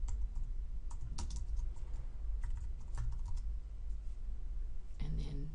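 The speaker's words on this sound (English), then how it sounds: "we're going to begin typing our information for the works cited" Rapid typing on a computer keyboard while entering a works-cited list in a word processor, steady clustered clicks running throughout with a few louder keystrokes, close and clear.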